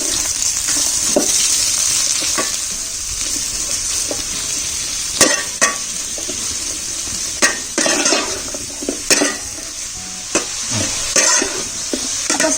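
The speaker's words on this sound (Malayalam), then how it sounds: "അതിലേക്ക് അരിഞ്ഞ് വെച്ചിരിക്കുന്ന സവാള ഇട്ടിട്ട് നമുക്ക് വഴറ്റിയെടുക്കാം കേട്ടോ." Sliced onions sauté in sunflower oil with a continuous sizzle, broken by frequent sharp scrapes and clinks of a spoon stirring against the pan, louder in the second half.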